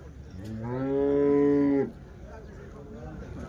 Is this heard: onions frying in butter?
no